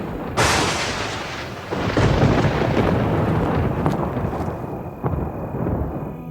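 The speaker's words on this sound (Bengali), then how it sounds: "জোরে একটা বাজ পড়ে" A loud thunderclap in a horror cartoon scene set on a field path by a bamboo grove at night, bursting in suddenly and rolling on as a sustained heavy rumble with further cracks, no voices.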